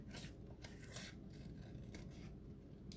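Scissors snipping out a paper fish for a paper plate aquarium craft, a few faint, close crisp cuts and rustles in quick succession, no talk.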